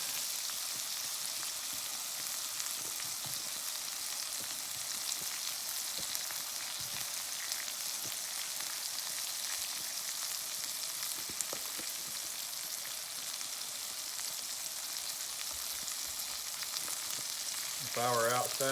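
Sausages and onions fry on a small portable 9-inch Blackout Stove, giving a steady, even sizzle and crackle that runs unbroken throughout at moderate volume, with a brief clatter near the end.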